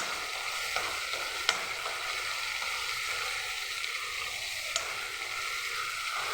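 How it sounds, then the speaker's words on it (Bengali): Potato frying with a cashew, tomato, ginger and ground spice paste in a pan, an even, continuous sizzle with a couple of faint taps of a stirring utensil, close and without voices. "এখন আলুটার সাথে পেস্টটাকে ভেজে নেব ভালো করে।"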